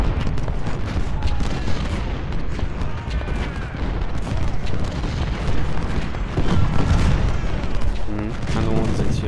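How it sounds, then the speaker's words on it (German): Cannon and artillery fire in the Civil War strategy game Ultimate General: Civil War, a dense continuous barrage of booms and volleys rumbling throughout, loud and layered with battle noise. "Kanonen sind hier auf jeden Fall."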